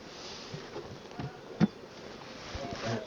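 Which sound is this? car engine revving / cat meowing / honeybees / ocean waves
honeybees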